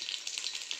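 Garlic sizzling in hot oil during a tempering for a Marathi varanphal dish, a steady bright hiss with small crackling pops, close and fairly loud, no voices.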